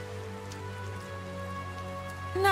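Steady rain falling in the video game Tales of Zestiria, a continuous even hiss over low sustained background tones, with no voices.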